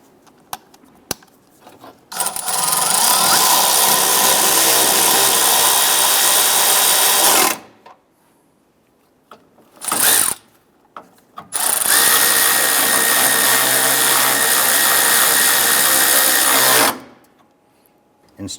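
A power drill snugs down bolts on a condenser of a 2002-2008 Dodge RAM, running in two loud, close bursts of about five seconds each, with a short blip between them and quiet handling noises around them.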